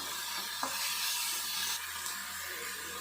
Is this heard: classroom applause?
no